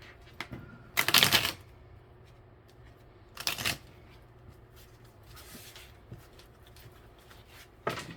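Tarot cards being shuffled during a daily reading, heard as two short, fairly close riffling bursts with quieter rustles and a brief final flurry against a soft room background.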